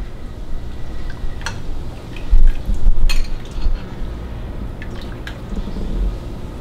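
Chicken and rice bone broth soup ladled into a bowl: scattered drips and splashes of liquid with light clinks of a utensil against the dish, close and fairly quiet, with no talking.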